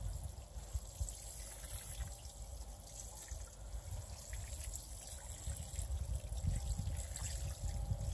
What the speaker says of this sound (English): So we're going to give this seedling a nice water.